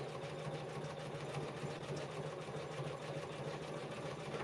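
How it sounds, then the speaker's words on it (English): An embroidery machine sews a tack-down stitch on an in-the-hoop project, a steady, fast mechanical whir with rapid needle chatter, close and continuous, with no talking. "next is going to do the tack down stitch of the W"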